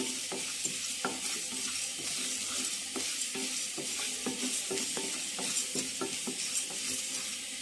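Coriander seeds, fenugreek and peppercorns are dry-roasted in a pan, giving a soft continuous sizzle broken by repeated scraping strokes and light clicks of a spoon against the metal.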